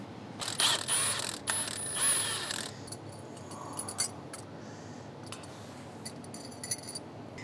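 A line wrench loosens a 10 mm fitting at the center of the fuel rails on a 2014-2018 Silverado or Sierra 5.3L or 6.2L V8, giving a few close metallic ratcheting clicks early, then faint scattered taps.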